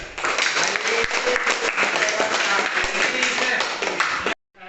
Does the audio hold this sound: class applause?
yes